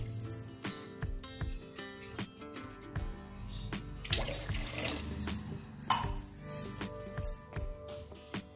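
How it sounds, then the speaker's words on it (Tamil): Water trickles and splashes as it is poured into a pot of Kerala-style fish curry, with intermittent clinks and knocks of utensils in a home kitchen. The sound is close and moderately quiet. "இப்போ குழம்புக்கு தேவையான தண்ணி சேர்த்துக்கிறலாம்."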